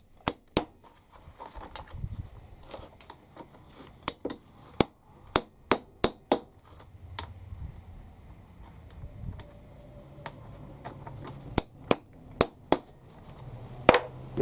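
Copper rivets struck with a hammer in a workshop, sharp metallic taps with a ringing edge that fall in irregular clusters and single blows, close and fairly quiet, with no talking.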